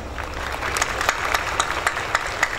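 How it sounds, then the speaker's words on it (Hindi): Audience clapping for a performer at a comedy stage show, a light, fairly sparse patter with a few sharper individual claps standing out, steady and moderate over the whole stretch. "भाई के लिए तालियां हो जाए"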